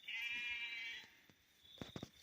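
St Croix ewes on a farm bleat close by: one long, wavering bleat, then a short run of rapid, choppy bleats after a brief pause.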